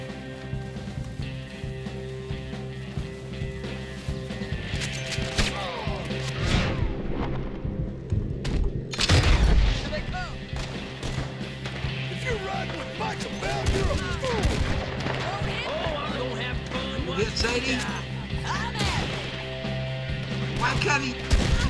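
Gunfire in the video game Red Dead Redemption 2 cracks repeatedly over a dense bed of game music and ambience, with occasional heavier booms and characters speaking throughout.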